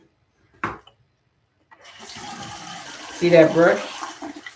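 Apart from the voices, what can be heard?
water running while rinsing out a facial brush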